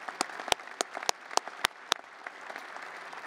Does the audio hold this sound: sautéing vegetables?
no